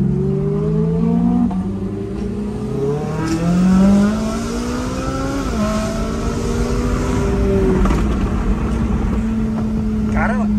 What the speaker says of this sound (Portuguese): Você vê que a turbina começa a girar,